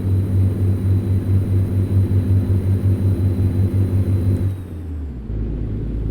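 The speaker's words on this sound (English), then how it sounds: "as the RPM's climbing, you can hear the turbo come up." A Freightliner Cascadia truck engine in American Truck Simulator drones loud and steady with a deep, even hum, then cuts away abruptly near the end to a lower rumble.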